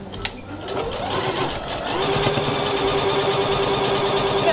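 A home sewing machine running a straight stitch on children's shorts fabric, steady whirring hum close up that settles into an even, continuous rhythmic buzz after a brief start.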